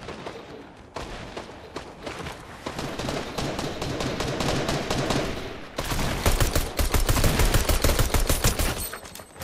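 Rapid automatic gunfire in the video game Fortnite, dense bursts of shots running almost continuously and growing louder and heavier toward the end, close and loud.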